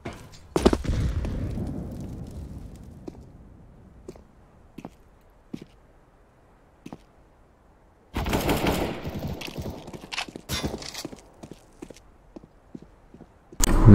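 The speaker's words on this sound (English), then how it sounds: "Grenade." A grenade goes off in CS:GO, a sudden loud blast in the middle of a quiet stretch. Scattered gunshots and footsteps come before and after it.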